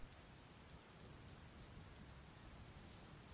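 Heavy storm rain outside, blown sideways by the wind, forms a faint, steady wash of hiss and patter with no voices over it.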